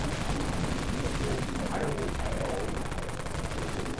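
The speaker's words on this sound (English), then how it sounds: "let's just start out with the good old-fashioned Unlimited Wraith Cannon" Unlimited Wraith Cannon machine gun in the Dead Frontier video game firing without a break, a dense, steady stream of rapid shots that holds at a loud level from start to finish.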